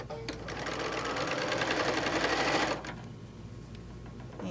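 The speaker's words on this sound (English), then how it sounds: "we're going to line this guy up, and we're going to sew across the top" A sewing machine stitches across layer cake quilt pieces in a steady, fast mechanical run, close and loud, then stops abruptly near the end, leaving quiet room noise.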